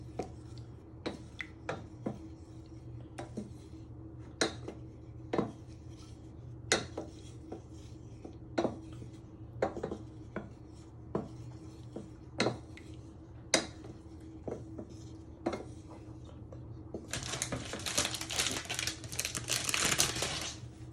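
A spoon taps and scrapes in a pan as chocolate pieces are stirred into a mixture, with sharp irregular clicks scattered through and a rougher scraping burst near the end.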